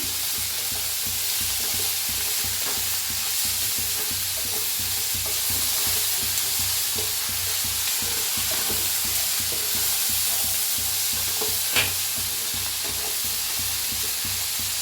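Roasted drumstick, peas, brinjal and beans sizzle steadily in hot oil while being stirred, producing a continuous loud frying hiss with soft scraping and the clatter of a spoon against the pan.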